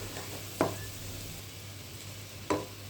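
Spiced masala cooks down in a pan with a soft sizzle, broken by two sharp scrapes of a spoon stirring it.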